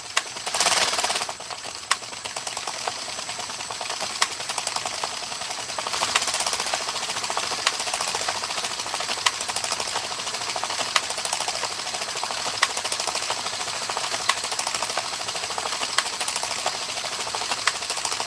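A circular knitting machine cranked by a power drill with an adapter, crafting knitted pumpkins, whirs and clatters in a fast, dense mechanical chatter, with steady ticking needle clicks running on for many seconds, close and loud.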